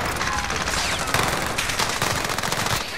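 Dense automatic gunfire fills a Call of Duty: Modern Warfare firefight. Rapid bursts and shots blend into a loud, continuous barrage throughout, with no clear voice over it.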